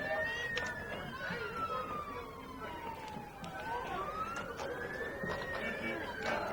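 A 1942 American LaFrance fire truck sounds its siren in a parade, a wailing tone rising and falling in slow sweeps, heard from a moderate distance over crowd and street noise.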